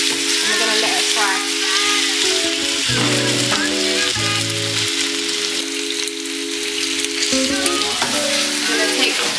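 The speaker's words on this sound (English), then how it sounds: "and we're going to let it fry." Marinated chicken fries in oil for a pumpkin and chicken soup, producing a loud, close, continuous sizzle alongside a few steady tonal hums and faint clinks, with no talking.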